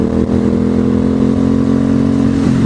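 An Aprilia Dorsoduro motorcycle engine in sports mode holds a loud, steady droning rev close up, with a brief dip and sharp throttle blip near the start and a slight drop near the end.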